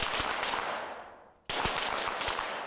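Pistol gunshots at an outdoor range during a weekend shooting clinic in Fairbanks, Alaska, sharp reports popping in quick irregular succession, loud and close over a reverberant wash of rolling echoes and more distant shots.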